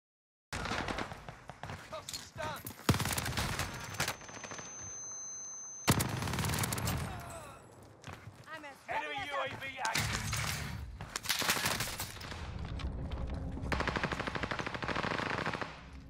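Light machine gun fire in Warzone's Rebirth Island, with long sustained bursts and sharp gunshots filling most of the stretch and heavy overlapping fusillades throughout; game voice chatter runs underneath.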